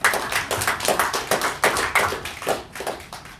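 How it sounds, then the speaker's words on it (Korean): An audience at a public gathering welcomes the next speaker with lively, close applause: a dense run of hand claps that swells and fades in uneven waves, with no voices over it. "박수로 맞아주십시오."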